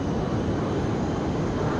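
Steady, loud drone of a Douglas World Cruiser biplane in a flight simulator game, pushed toward Mach 0.95; a dense continuous engine and wind roar holds unchanged throughout with no talk.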